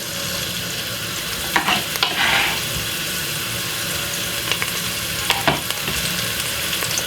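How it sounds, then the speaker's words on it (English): Garlic, fresh thyme and chopped spring onion sautéing in olive oil in a frying pan, a steady close sizzle broken by a few scraping stirs and a brief watery burst, no talking. "and saute this after about 2 to 3 seconds"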